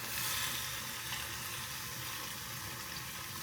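Chana dal dropped into a hot cooker with bottle gourd, giving a steady, close hiss of sizzling that holds evenly throughout with no talking.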